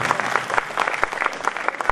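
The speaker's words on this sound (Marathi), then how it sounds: "जरा त्यांच्यासाठी एकदा जोरदार टाळ्या उठवली" Loud applause from a large crowd at a memorial lecture and music event in Maharashtra, dense clapping with distinct sharp hand claps rhythmically punctuating the wash, close and vigorous for the whole stretch.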